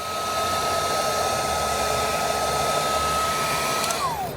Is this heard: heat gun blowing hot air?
yes